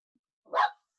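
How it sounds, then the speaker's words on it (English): A dog gives one short, sharp bark during an online meeting, heard fairly close and alone in otherwise quiet surroundings. "Who owns that dog?"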